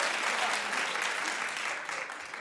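A television talk-show studio audience claps in a steady, dense wash of applause, close and fairly loud, tapering slightly as it ends.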